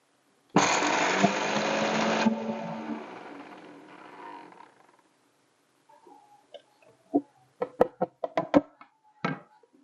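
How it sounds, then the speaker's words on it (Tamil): A kitchen mixer grinds ajwain seeds and black pepper into powder, a loud whirring burst for a few seconds that winds down, followed by several sharp knocks and taps as the jar is handled. "இப்ப இந்த ஓமமும் மிளகையும் நான் தனியா பொடி பண்ணி"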